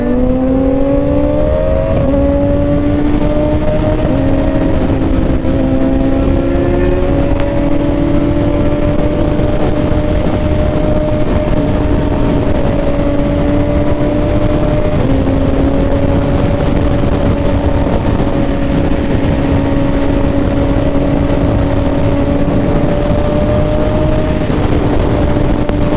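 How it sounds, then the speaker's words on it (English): A sport motorcycle engine runs loud and close through the whole stretch as the rider pops wheelies. It holds a continuous, strained drone whose pitch rises and shifts, mixed with heavy wind rush and no voices. "This guy's just popping wheelies like nothing."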